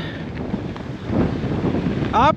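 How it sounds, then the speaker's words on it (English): Strong, gusty wind buffets the microphone during a slow bicycle ride along a South Australian road, a steady low roar that swells louder toward the end, with a brief rising whistle-like sound near the close. "the wind is brutal today the wind is so strong"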